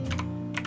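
Mouse clicks on grip points in AutoCAD: a few quick, close clicks in a short burst over a steady tonal background, with no talking.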